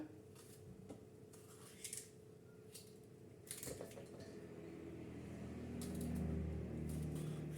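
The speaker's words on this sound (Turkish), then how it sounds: "Bunlar da böyle doğrayacağım." Several sharp knife chops through peppers on a cutting board, spaced irregularly, with a low hum growing in the background.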